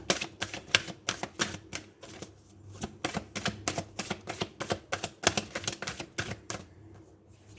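Cards are shuffled from an oracle deck in rapid, rhythmic riffling bursts, close and crisp, with short pauses between runs and no voice.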